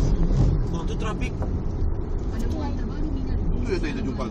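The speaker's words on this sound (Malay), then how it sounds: "Tu trafik." Street traffic in Labuan, Malaysia rumbles past, with cars and heavier vehicles passing close by in a steady drone while people talk over it.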